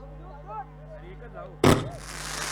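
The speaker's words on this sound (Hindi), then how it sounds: "इस वक्त फाइनल मैच आतिशबाजी के साथ शुरुआत होती हुई बहुत ही जबरदस्त आउटस्टैंडिंग हम नजारा देख रहे हैं" Fireworks mark the start of a cricket tournament grand final, one sharp loud burst near the end rising out of ongoing commentary voices, followed by a sustained crackling rumble.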